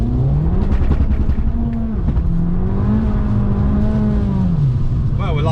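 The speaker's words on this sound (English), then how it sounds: "we're lighting up the wheels there just for a bit of banter" An Abarth 695 70th Anniversario spins its wheels on a very wet road, its engine revving loudly and rising and falling in pitch up close, with a voice talking over it.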